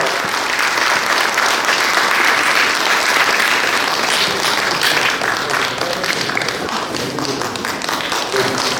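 A large audience at a redevelopment association's general assembly gives loud, sustained applause, a thick continuous roar of clapping with scattered voices mixed in, holding strong throughout.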